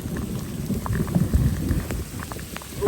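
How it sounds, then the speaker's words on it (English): Heavy wind-driven rain pours down steadily and loudly during a storm, a dense constant hiss and patter with low rumbling gusts and no talking. "This one is windy and it's got all rain."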